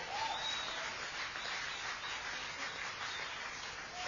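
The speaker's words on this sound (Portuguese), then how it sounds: "Pode aplaudir ao Senhor." Church congregation applauding during a sermon, a continuous wash of many hands clapping at even strength throughout, moderately distant with a muffled, band-limited sound.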